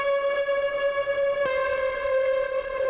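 Electric guitar pushed through Devil Lock distortion with different left and right settings, holding one steady sustained note with a dense stack of bright harmonics and a brief pick attack midway, loud and alone.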